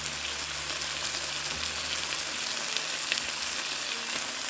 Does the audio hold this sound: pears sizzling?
yes